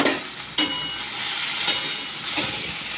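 Spinach frying in a pan sizzles with a steady close hiss, broken by a few soft scraping clicks from stirring.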